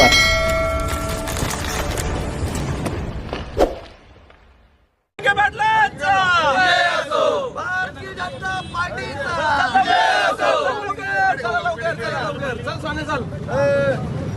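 A crowd celebrating in Shirdi: a clanging bell and noise at first, then a brief silence, then a loud, dense hubbub of many voices shouting and cheering close by.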